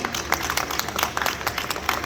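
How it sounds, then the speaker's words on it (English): Audience applause at a talk on home compostable biopolymers, a moderate burst of scattered clapping from a crowd lasting about two seconds, with a little voice underneath. "So a big round of applause, please."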